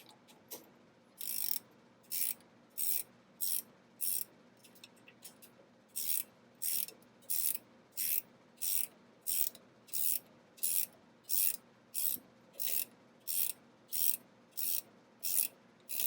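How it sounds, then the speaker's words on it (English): A 9/16 ratchet wrench tightens a suspension stud nut on a 1962 Cadillac with a long run of regular bursts of ratcheting clicks, one roughly every half second, close and crisp against quiet, with no voices. "if you've got one of these ratchet wrenches, it's a 9/16, you can go ahead and put it on. start tightening"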